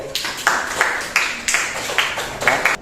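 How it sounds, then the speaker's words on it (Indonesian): A school class claps for a student named Zia, with about a dozen rhythmic bursts of group clapping in near-unison, fairly close and moderately loud. "tepuk tangan dulu buat Zia"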